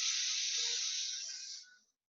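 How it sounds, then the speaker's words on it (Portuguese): A person draws in a long, steady breath through the nose during a breathing exercise, heard as a close, airy hiss that fades out after about two seconds. "Deixa a mão lá na costela, puxa o ar pelo nariz."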